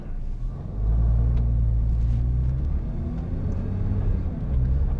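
A used Nissan GT-R rolling at about 15 mph during a transmission inspection, its engine giving a low, steady rumble from inside the cabin that swells slightly after the first second and holds, with faint background noise.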